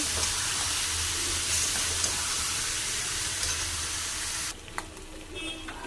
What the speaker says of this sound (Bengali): মশলাটা কষিয়ে নিয়ে জল দিয়ে দেব